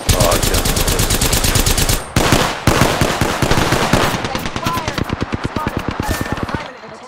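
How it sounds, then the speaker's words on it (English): Rapid automatic gunfire in a shooter game, loud dense bursts of machine-gun shots cracking nearly nonstop, a short pause after two seconds, then continuing and gradually fading. "They're shooting at me."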